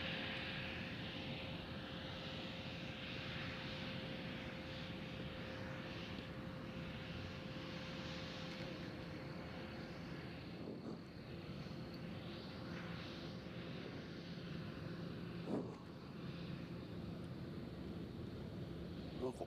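An airliner taking off at Nashville International Airport on a windy evening, a sustained broad engine roar heard from the ground at a distance over gusty wind noise, with a steady tonal whine running throughout.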